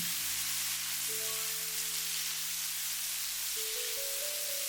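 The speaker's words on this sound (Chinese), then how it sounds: "油熱之後，把切好的西紅柿塊倒在鍋中，快速翻炒均勻" Tomato chunks stir-fried in hot oil in a wok make a steady broadband sizzle, loud and close, with a low hum running through it and a few faint tonal whines, and no voices.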